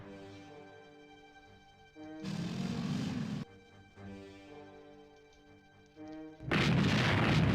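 Booming artillery fire in a WWII strategy game set at the opening of Operation Barbarossa, two loud sustained bursts over a steady game music bed.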